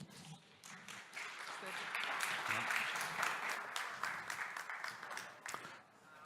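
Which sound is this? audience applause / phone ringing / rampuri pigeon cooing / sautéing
audience applause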